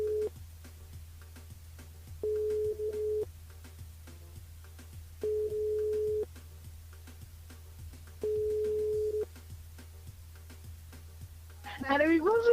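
A telephone line rings during a live radio call-in show, giving four evenly spaced ring tones over a low line hum before a voice comes on at the end.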